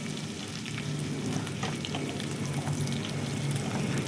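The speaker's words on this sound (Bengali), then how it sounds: "এবার এটাকে একটু ভেজে নেব যাতে পেঁয়াজ রসুনের কাঁচা গন্ধটা চলে যায়।" Cabbage momo stuffing with onion, garlic and chilli frying in a pan, a steady dense sizzle and crackle with soft stirring scrapes throughout, close and continuous.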